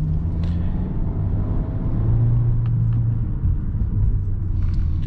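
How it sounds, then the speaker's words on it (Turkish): A Volkswagen Passat petrol engine rumbles steadily at a low pitch as the car drives along a narrow single-lane village road at night, with no talking. "Ama benzinlinin motor sesi bak."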